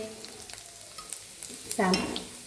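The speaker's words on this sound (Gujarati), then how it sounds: "તેને થોડી વાર સાતળવા દઈશું." Ginger-garlic paste sautéing in a pan while making rajma chawal, a soft steady sizzle with faint stirring taps and a louder burst of frying near the end, with no voices.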